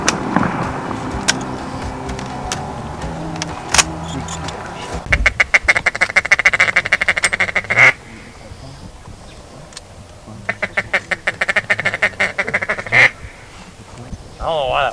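Ducks quacking on the water during a youth duck hunt, with bursts of rapid, rattling quacks and calls repeating in clusters, alongside sharp clicks and people talking nearby.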